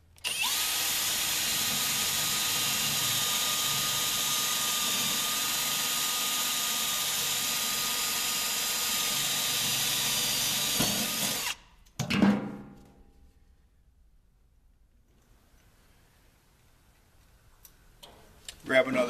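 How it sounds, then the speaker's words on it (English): A power drill boring a 3/4-inch hole between two rivets while fitting a vehicle running board whines steadily at close range for several seconds, then stops abruptly, followed by a clunk and quiet handling noises. "We're going to drill 3/4 inch halfway between these two rivets."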